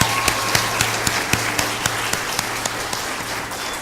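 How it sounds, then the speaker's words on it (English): Audience applause at a school board regular meeting, a fairly sparse, steady patter of clapping with distinct individual claps standing out, set against a low constant hum in the room. "So give him a round of applause."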